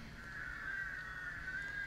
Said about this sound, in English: the immense flock of black birds that hovered directly below me